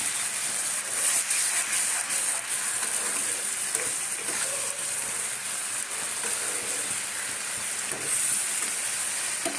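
Rinse water from a spice bowl hits a hot pan of spices for potato-soyabean curry, giving a loud, continuous close-up sizzle and hiss that stays steady throughout with faint stirring clinks.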